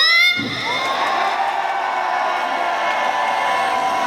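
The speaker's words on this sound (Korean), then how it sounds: "하나씩 박수와 함성!" A large crowd at an outdoor event for the 2025 Yeongdong World Gugak (Korean traditional music) Expo cheers, claps and shouts continuously, a dense sustained roar of voices at steady loudness with no pauses.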